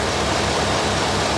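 A Subaru with a new motor and turbo and a Motec engine management system idles in a tuning workshop, giving off a loud, steady, low engine drone.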